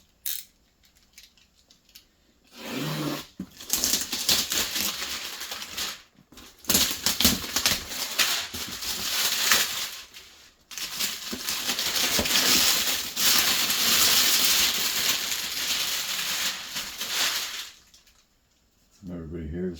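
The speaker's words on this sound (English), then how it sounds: "Everybody hear the sticker? That's a good slice." Knife slicing open a sticker sheet from an RC4WD 1987 Toyota Xtracab body kit: long close scraping, rasping cuts in several bursts with short pauses between them.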